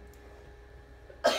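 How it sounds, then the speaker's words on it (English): A single sharp cough bursts out near the end after a stretch of quiet room tone, loud and close. "Apologize for the coughing."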